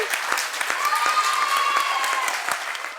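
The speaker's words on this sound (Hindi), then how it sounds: "तो हम इनको थोड़ा जोरदार ताली से हौसला बढ़ाएंगे।" Brief burst of audience clapping meant to encourage someone at a youth dialogue event, moderately loud with a faint voice or tone running underneath.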